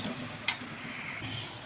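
Garam masala, coriander powder and salt sauté in oil for egg bhurji, giving a faint, steady low sizzle with one brief tap of a spoon near the start.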